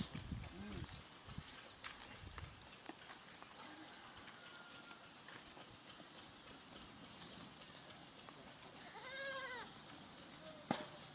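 Native-breed goats raised for sale, back from grazing, bleat several times in quick succession near the end, a few wavering calls over steady outdoor rustle and insect-like hiss.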